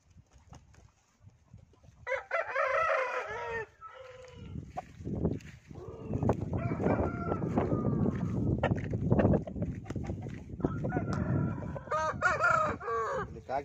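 A Coimbatore-bred fighting rooster crows loudly nearby in several harsh drawn-out calls, mixed with clucking and the noisy bustle of other fowl.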